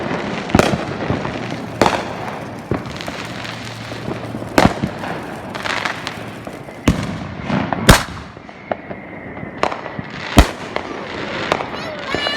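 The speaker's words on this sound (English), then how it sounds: "There's fireworks off in every direction, I swear. You can probably hear it." Fourth of July fireworks go off in every direction at a distance, a scattered series of sharp pops and booms with faint crackle between them, while a person talks over the background bangs.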